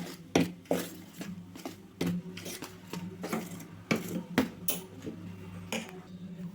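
Ragi flour batter with jaggery being stirred in a bowl as liquid is added bit by bit: close, irregular scrapes and light clinks of a spoon against the bowl, repeating steadily with no talking.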